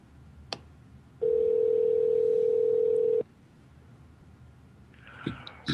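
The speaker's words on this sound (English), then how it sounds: "you're going to hear some ringing, so just ignore it. We're going right to a hard line." Telephone line tone while a call connects on a hard line, a single steady two-second tone standing alone, followed by faint clicks of the line picking up.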